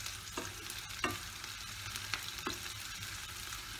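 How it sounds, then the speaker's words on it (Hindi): Chopped onion and masala cooking with green chilli get stirred in a pan, a soft sizzle with a few sharp scrapes of the spoon, quiet and close. "आप इसको लगातार हिलाएं ताकि हमारा प्याज और जो मसाला है वो नीचे नहीं लगे।"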